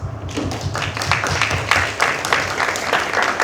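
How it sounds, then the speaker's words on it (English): Town hall audience clapping, scattered hands in uneven bursts with some louder close claps and a low hum underneath, fairly near and without speech. "Let's give them a round of applause."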